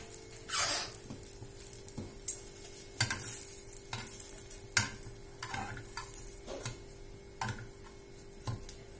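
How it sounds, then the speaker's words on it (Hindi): Bread slices shallow frying in ghee in a pan, a soft steady sizzle with scattered light clinks and scraping taps of a utensil, close and fairly quiet, no talking. "इसी तरह मैं बाकी के ब्रेड भी फ्राई कर लेते हैं।"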